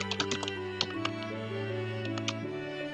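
A name is typed on a computer keyboard: rapid, light key clicks in an uneven run over a steady electronic hum, close and fairly quiet.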